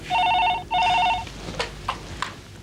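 A telephone rings late at night: two loud electronic ring bursts, close and clear, followed by a few faint knocks and shuffles in an otherwise quiet room.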